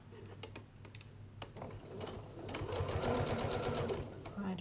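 A sewing machine runs in steady close bursts, stitching a zipper onto a circular fabric bag, its rapid needle chatter speeding up and growing louder toward the end while a person talks over it.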